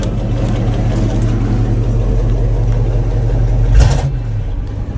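A 1969 Chevy C10 CST truck with dual straight-pipe exhaust and no mufflers idles loud and close, a steady low rumble that swells into a brief blip near the end before settling back.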